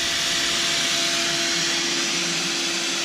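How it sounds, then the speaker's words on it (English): A vacuum seeder's exhaust blows a tray of vegetable seeds out through its holes, 512 at a time: a loud, steady, unbroken motor-driven whoosh with no pauses. "He'll turn off the vacuum to the exhaust, which blows all the seeds out"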